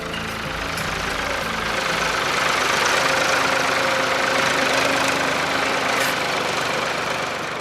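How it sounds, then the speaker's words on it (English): A tractor engine rumbles steadily while hauling freshly plucked green tea leaf from the fields to a processing factory, a constant mid-loud drone with low knocking pulses and no voices. "The first stage of the green tea's journey is by tractor from the fields to the processing factory."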